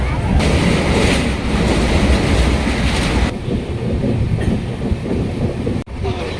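The 12357 Kolkata–Amritsar Durgiana Express rumbles steadily along the tracks near Dhanbad with a continuous heavy roar and rattling, heard from inside, with a brief dip near the end.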